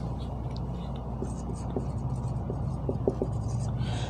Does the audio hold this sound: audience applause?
no